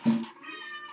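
A person's voice imitates a cat, giving a single short meow that swells quickly at the start and then fades into a quiet, thin tail.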